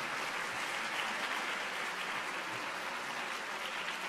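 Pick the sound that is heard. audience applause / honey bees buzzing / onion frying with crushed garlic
audience applause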